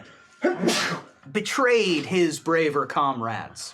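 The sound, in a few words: sneeze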